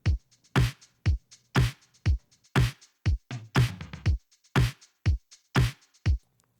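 A punchy original drum loop from a mix repeats steadily, with sharp kick and snare hits spaced evenly and a brief busier fill in the middle, loud and dry with no voices.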